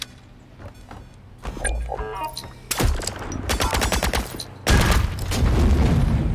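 A gun in The Signal From Tölva fires in several rapid bursts of sharp, loud shots, starting sparse and then growing into sustained close-range volleys with heavy booming hits toward the end.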